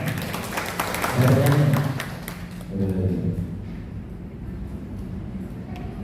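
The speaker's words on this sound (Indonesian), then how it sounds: "Tepuk tangan dulu dong" A small group at an Indonesian storytelling session claps briefly in two short bursts, with voices talking around and between them.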